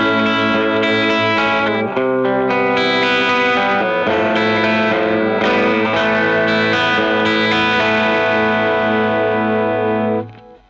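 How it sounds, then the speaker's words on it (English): A 1974 Ibanez Futura electric guitar on its bridge pickup, played through a fairly clean amp with light compression: loud, bright strummed chords and ringing notes sustain throughout, then cut off sharply at the end. "here we are through a relatively clean amp with a touch of compression on the bridge pickup"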